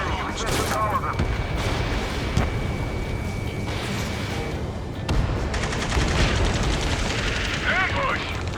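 Dense, rapid gunfire from an ambush on the far shore in the Ace Combat 7 video game: a steady, crackling barrage with sharper cracks that runs the whole time, while voices call out over it.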